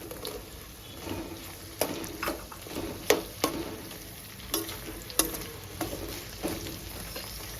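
Cucumbers tossed into a pan of frying onions and green chilies, sizzling steadily with repeated scraping and stirring clatters throughout, no voices.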